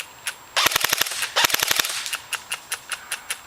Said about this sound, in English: the BBs are still consistently shooting to the left